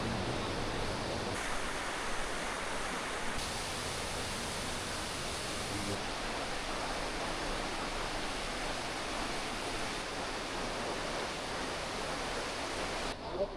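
Waterfall at Johnston Canyon in Banff, a steady loud broadband roar of falling water close by, continuous and unbroken with no talk over it.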